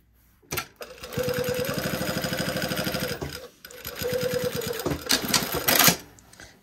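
A sewing machine stitches down quilted fabric in two close, steady bursts of rapid needle chatter, broken by a short pause and ending in a few slower, heavier stitches.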